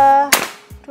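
A single sharp shot from a Predator Bocap GL PCP air rifle cracks out close by during a velocity test, cutting across a steady tone before a brief thud follows.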